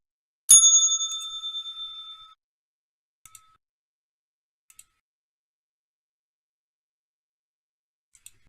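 A single bright bell strike rings out and decays over about two seconds, followed by a few faint, sparse ticks in near silence.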